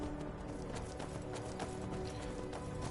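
Rapid rhythmic hoofbeats of a galloping horse in the video game Skyrim, steady and continuous over a dense, even background.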